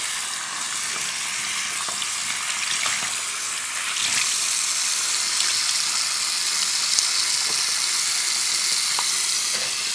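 Tap water running steadily as cleaner is rinsed off a bathroom surface near the faucet and backsplash, a constant hissing splash with faint clinks, close and unbroken throughout.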